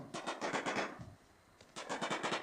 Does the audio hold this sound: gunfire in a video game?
yes